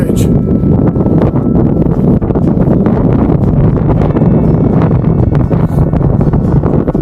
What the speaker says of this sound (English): It's cold, windy.